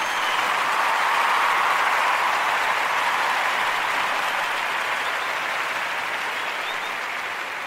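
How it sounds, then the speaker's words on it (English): Audience at a Kwanzaa Umoja Day event applauding the children, a dense, sustained wash of clapping that stays loud throughout and eases off slightly toward the end. "we want to give all of the Umoja babies a round of applause"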